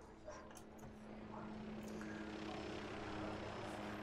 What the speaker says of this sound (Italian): Quindi c'è un elicottero.